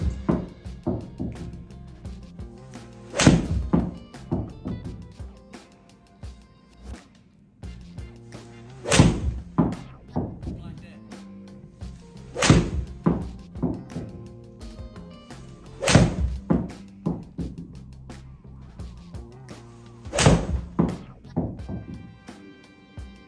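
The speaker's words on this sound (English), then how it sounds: "So let's have a go with hitting these." Golf balls are struck with a Stealth iron, five sharp, crisp impacts spaced several seconds apart, each a loud click followed by quieter handling and movement sounds between shots.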